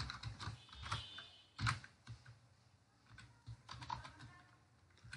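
Code is tapped out on a computer keyboard in quick irregular bursts of soft clicks with a few heavier key strikes, close but quiet against a faint background.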